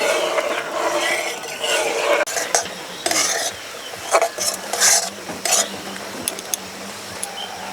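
A spoon stirs warm milk as milk powder is mixed in a pot, with soft scraping and clinks against the metal, a faint simmer underneath and several brief sharper taps later on.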